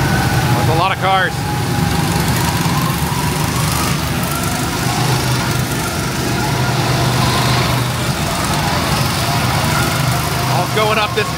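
A pack of go-karts circles a go-kart track at a Fun Spot amusement park in Florida, a continuous buzzing engine roar filling the scene as people talk nearby.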